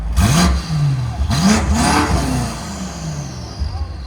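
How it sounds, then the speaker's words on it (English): BMW M5 F90 with a 4.4L twin-turbo V8, fitted with downpipes and a resonator delete, revved in repeated sharp blips that flare and fall back toward idle, loud and close, with people talking nearby. "Go ahead and rev it. Put it in M1."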